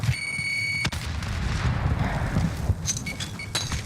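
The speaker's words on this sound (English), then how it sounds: "Tossing frag." A frag grenade blast and gunfire ring out in the Call of Duty Warzone video game, with dense, loud rumbling booms and crackling shots over constant game noise, plus short electronic beeps at the start and end.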